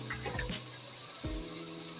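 A little water is poured onto haleem masala in a cooking pot, a brief splashing pour heard close up over a steady hiss of sizzling.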